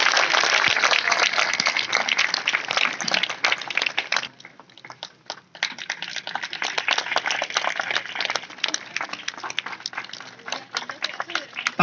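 A crowd claps continuously to welcome an award winner at a traffic awareness event in Sonebhadra, a dense patter that briefly dips midway before swelling again, with some voices mixed in.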